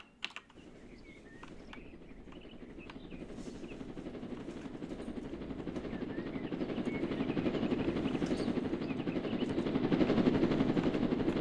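Helicopter in the Roblox Jailbreak game, a rapid rotor thrum that grows steadily louder as it approaches, with sharp keyboard taps clicking over it near the start.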